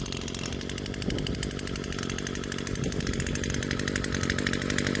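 An Echo SRM 225 two-stroke grass trimmer engine runs steadily at a high rev, a loud, close, buzzy rasp with a rapid regular pulse that holds throughout with no talking.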